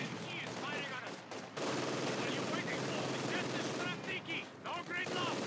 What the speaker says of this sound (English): Engie is firing on us!